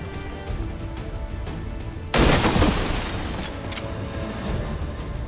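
In XCOM 2, a sudden loud blast erupts about two seconds in, a sharp gunshot or flashbang burst that rings out and decays slowly over a steady background of game ambience.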